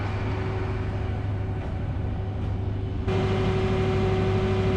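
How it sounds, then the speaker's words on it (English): Train from London King's Cross arriving at a station platform, a steady low mechanical rumble and hum with tonal drones that swells slightly louder partway through. "here's the direct train from London King's Cross coming into platform"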